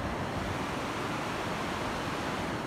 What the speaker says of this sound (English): This river goes all the way down and it's the waterfall.